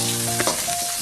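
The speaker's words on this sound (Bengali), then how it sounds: "দিয়ে দেবো এর মধ্যে আমি আদা কুচিগুলো দিয়ে ভালো করে ভেজে নেবো।" Whole garlic cloves and chopped ginger fry in hot oil in a pan, a steady close sizzle with a couple of brief stirring scrapes partway through.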